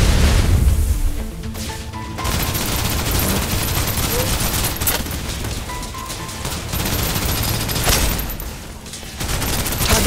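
Sustained suppressive gunfire from the video game Snowbreak: Containment Zone, a dense, loud fusillade of rapid automatic shots with crashing impacts that runs nearly the whole time, dipping briefly between bursts.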